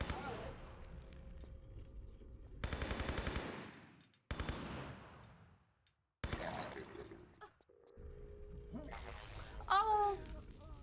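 Lara Croft fires her guns in the video game Tomb Raider III, giving several loud bursts of rapid gunfire separated by short pauses, with game music and effects around them.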